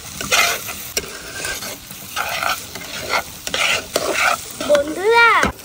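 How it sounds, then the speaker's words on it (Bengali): Fried rice is stirred and tossed in a hot pan, giving loud sizzling bursts with repeated scraping strokes of a spatula in an uneven rhythm. "এবার ভালোভাবে মিক্স করে নেব আর ভালো মতন ভেজে নেব"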